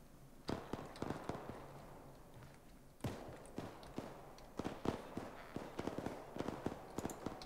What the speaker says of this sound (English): There's a lot of shooting at the other end of the town there.